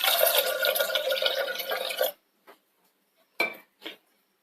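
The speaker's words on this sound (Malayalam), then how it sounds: "ഇതിനകത്ത് കുറച്ച് വെള്ളം കൂടെ ചേർക്കണം." Water is poured into a pot of lentils for sambar in a home kitchen, a steady splashing pour lasting about two seconds, followed by a few brief clinks and drips.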